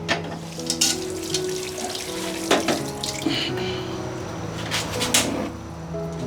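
Tap water runs steadily into a sink as vegetables are rinsed for a Filipino sinigang, with splashing bursts and a few clunks from handling the greens, close by and continuous.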